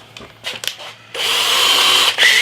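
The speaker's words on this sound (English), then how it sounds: "So first things I need to do is to drill a pilot hole" A handheld power drill whirs up and runs steadily while boring a pilot hole, preceded by a few brief clicks and handling sounds.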